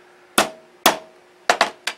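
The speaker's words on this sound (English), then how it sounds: "You just take a small ball peen hammer" A small ball peen hammer sets a metal eyelet for a model airplane plate hinge, striking five sharp close taps: two spaced blows, then a quick triple with a ringing tone after the early hits.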